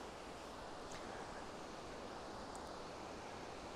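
Rushing water from a mountain stream in the Swiss Alps, heard as a steady, dense broadband roar that holds constant throughout, with no voices over it.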